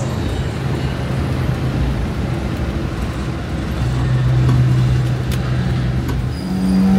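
An angkot minibus on route 06 rumbles along a road at night, a steady engine drone with a low hum that swells slightly as it passes, set against continuous traffic noise and with no voices.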